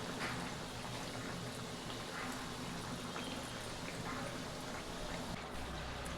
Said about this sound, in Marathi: आता बघा ह्या तेलावरच्या सगळ्या बुडबुड्या कमी झाल्या